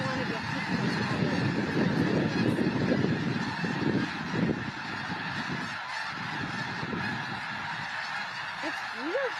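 A large flock of thousands of winter geese honks and calls in the Skagit Valley, a dense continuous chorus of overlapping cries that stays loud throughout, with a few nearer calls rising clearly above the mass.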